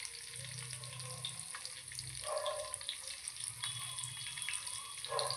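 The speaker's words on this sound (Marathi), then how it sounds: "हे रव्याचं कोटिंग केलेलं फिश ह्याच्यावरती टाकून दिलं अशा मस्त फ्राय करायला ठेवूया" Semolina-coated fish frying in oil in a pan over low heat, a soft continuous sizzle and crackle with faint bubbling bursts, fairly quiet and steady throughout.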